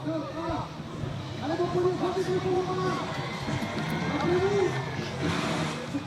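Spectators at a roller freestyle slopestyle World Cup final in Montpellier cheer and shout in a broad, fluctuating crowd roar, with a commentator talking over it throughout.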